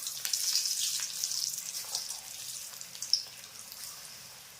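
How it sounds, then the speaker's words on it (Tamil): Raw banana batter fritters deep-frying in oil, shaped like bonda, give a steady bright sizzle with scattered small pops and crackles, close and continuous throughout. "இப்போ எண்ணெயில் பொரிச்சு எடுத்துக்கலாம்."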